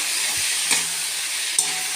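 Taro and shrimp with whole green chillies sauté in a pan for Bengali kochu chingri, giving a continuous close, bright frying sizzle with a couple of soft stirring knocks.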